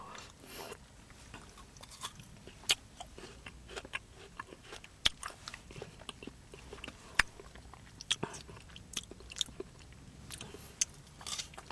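Someone bites and chews a Garigari-kun Rich Napolitan-flavor ice pop up close, with repeated crisp crunches and icy crackles in an uneven rhythm and no talking.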